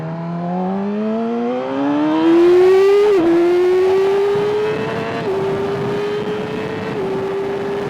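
A 2019 Yamaha R6 motorcycle accelerates hard, its engine note climbing smoothly through the revs and dropping at each gear change before rising again, loud and close throughout.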